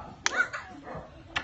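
A dog barks its answer to a counting question at an animal shelter: two short, fairly close barks about a second apart, with quiet room sound between.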